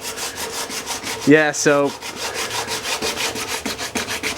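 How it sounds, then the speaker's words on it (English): Sanding paint off a car body during a 2JZ-swapped Nissan 300ZX build, a steady rhythmic rasping scrape repeating close up, with a brief spoken voice breaking in near the middle. "We're about to get grinding. Or sanding, technically."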